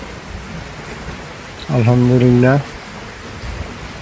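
Heavy monsoon rain on an afternoon at a goat farm makes a steady, even wash of noise throughout, and someone briefly speaks partway through.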